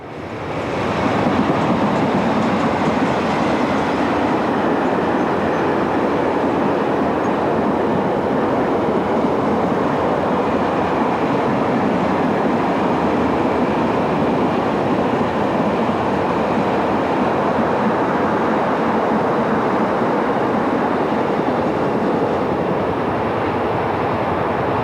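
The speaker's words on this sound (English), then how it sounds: "Here number 12051 is hauled dead in train by 36006 on a service from Jeumont to La Delivrance on the 12th of May 1995." Train hauled by SNCF electric locomotive 36006, with BB12000 number 12051 towed dead in the consist, running from Jeumont to La Delivrance: a loud, continuous rumble and rolling roar of wheels on rails, steady throughout.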